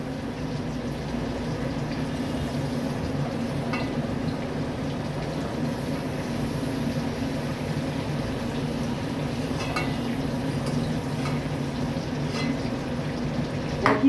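Potatoes frying in oil in a pan for a Bengali potol vegetable curry: a steady, close sizzle and bubbling hiss that runs continuously with faint crackles, no talking.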